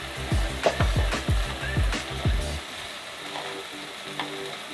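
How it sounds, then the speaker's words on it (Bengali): Red chili powder, turmeric and salt being stir-fried in a pan for fish biryani, rhythmic scraping strokes over a sizzle for about two and a half seconds, then a quieter steady sizzle. "এভাবে কিছুক্ষণ মশলাটি কষিয়ে নেব।"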